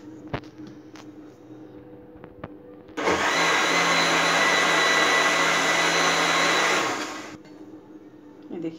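A mixer grinder whirs loudly and steadily for about four seconds, grinding soaked, boiled red chillies into paste; quieter kitchen sounds come before and after it.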